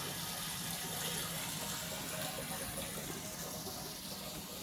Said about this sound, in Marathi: मी हे आता टॉकीमध्ये पाणी भरत आहे डायरेक्ट